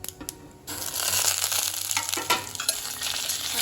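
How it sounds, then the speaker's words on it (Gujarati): Steamed dough balls tipped into a hot pan of roasted mustard seeds and sesame, giving a sudden loud sizzle and frying crackle that carries on steadily with scraping stir noises throughout. "ત્યાર પછી હવે આપણે જે બોલ્સ સ્ટીમ કર્યા હતા એ એડ કરીશું"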